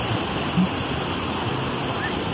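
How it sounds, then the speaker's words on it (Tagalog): Strong Pacific Ocean waves surge and wash at a tidal pool on the far side of a mountain, a steady, full roar of rushing water filling the clip, loud and continuous. "Taas ang tubig, Pacific Ocean na to. Malakas yung alon."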